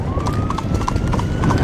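Steady clip-clop of a pair of Connemara mares' hooves pulling a carriage on a hard road, close and rhythmic, over a constant low rumble of traffic or wheels.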